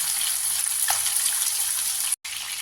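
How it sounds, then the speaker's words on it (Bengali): Rohu fish pieces sizzling in hot oil in a pan as they are turned to fry the other side, a loud, steady hiss throughout with a brief dropout near the end. "এক পিঠ উল্টে অন্য পিঠটা ভেজে নিচ্ছি।"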